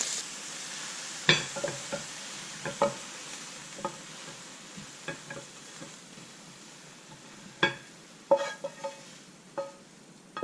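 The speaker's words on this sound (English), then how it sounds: "it's a simple, healthy, and delicious fresh, stir-fried zucchini with eggs" Zucchini and eggs being stir-fried in a pan, with a soft sizzle beneath scattered scrapes and clinks of a utensil stirring against the metal, irregular and fairly close.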